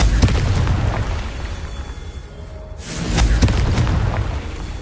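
Hogwarts Legacy Confringo fire spell blasting: loud, rumbling explosive bursts over a continuous roar, with a brief dip near the middle, then a fresh heavy boom that swells again. No talk.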